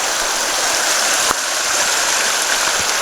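Steady, close rush of a river pouring across a washed-out hiking trail on the North Fork Skokomish, a broad unbroken roar of fast water with one brief splash or knock partway through.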